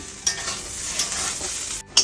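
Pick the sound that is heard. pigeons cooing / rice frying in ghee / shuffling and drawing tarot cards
rice frying in ghee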